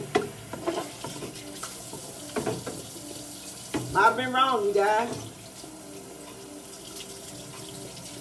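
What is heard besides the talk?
rinsing broccoli under a running kitchen tap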